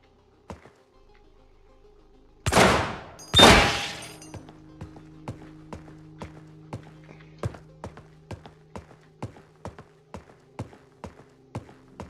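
Automated turret in the shooter game Receiver opens up with two loud close blasts, then a long run of evenly spaced sharp cracks that tick along steadily and fade slightly.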